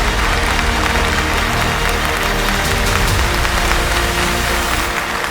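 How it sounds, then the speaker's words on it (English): Loud, continuous applause from a large audience at an exam rankers' felicitation ceremony, dense and even throughout with no talking over it. "A huge round of applause for everybody"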